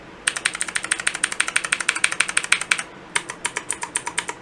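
Rapid, evenly spaced clicks of the delete key on a Redragon K552 mechanical keyboard pressed over and over, crisp and close, with a brief pause before the tapping resumes.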